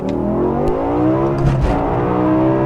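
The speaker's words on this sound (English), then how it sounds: "Oh, way too much wheel spin." A BMW E60 M5 with its V10 revs hard under full acceleration, a rising, continuous engine howl climbing in pitch with wheel spin as the tyres break loose, loud and close with no talk.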